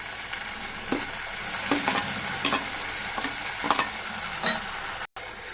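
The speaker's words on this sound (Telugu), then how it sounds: "కొద్దిగా అల్లం వెల్లుల్లి పేస్ట్ వేసుకున్న తర్వాత మనం ముందుగా కట్ చేసి పెట్టుకున్న టమాటా ముక్కలను కూడా ఇందులో యాడ్ చేసేస్తున్నాను" Tomato pieces fry with ginger garlic paste in a pan, a constant hissing sizzle up close with spaced spoon scrapes and taps, ending in a brief cut of silence.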